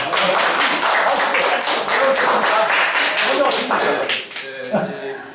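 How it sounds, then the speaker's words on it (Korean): Supporters clap at the opening of a Seoul city council candidate's campaign office in Gangseo-gu. Close, loud clapping from a small group runs in quick beats, then thins out near the end as voices come in. "조남 및 지지자분들 박수 부탁합니다"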